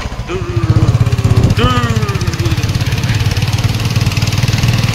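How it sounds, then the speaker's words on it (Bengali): A motorcycle engine starts up and settles into a loud, rapid chugging idle close by, with a voice briefly heard over the start. "এই যে দেখো এখন স্টার্ট করলো আর সাউন্ড বাইকের"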